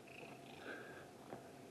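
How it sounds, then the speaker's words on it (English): A large cat purrs while being petted, a soft, steady rumbling purr close by but faint, with slight swells and no talk. "Also, listen to how loudly he's purring."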